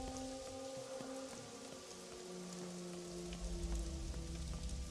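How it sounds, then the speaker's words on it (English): Steady rain patters on surfaces in the game Pathologic 2, a soft continuous hiss with scattered drops beneath a low droning musical score. "Man, it's nice that it's raining too."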